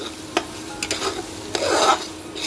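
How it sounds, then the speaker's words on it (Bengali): Boiled banana flower mash frying in a pan, a soft sizzle broken by several scraping and knocking stirs of a spatula, close and clear with no speech. "এবার এটাকে আমি ভালো করে ভেজে নেব।"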